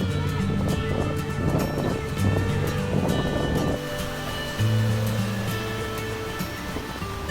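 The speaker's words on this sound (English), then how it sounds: "You can see waves are so small" Small sea waves wash steadily onto the beach at Subic in the Philippines, a continuous surf rush with gentle swells and some wind, no voices.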